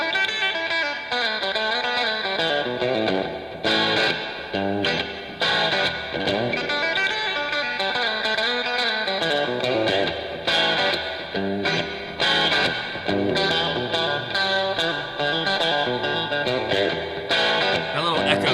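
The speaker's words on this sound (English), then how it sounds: "That little echo is just perfect." A song plays loud and continuous: a bluesy, distorted electric guitar and band with an echo effect giving a roomy, empty-hall spaciousness, the guitar lines repeating and trailing off.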